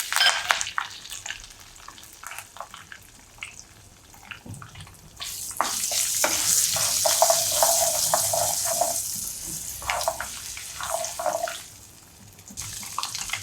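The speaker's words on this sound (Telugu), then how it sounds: "ఇవి కాస్త వేగాక ఎండుమిర్చి, కరివేపాకు వేద్దాం." Dried red chilies and curry leaves fry in a tempering for raw mango pachadi, a soft crackle that swells into a louder rushing sizzle midway, with occasional ladle clicks.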